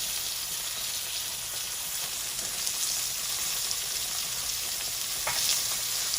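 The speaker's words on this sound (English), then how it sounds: "Look at those babies sizzle." Steady, dense sizzling of country fried steak frying in a hot pan, a continuous crackling hiss with small pops, close and fairly loud, no voices.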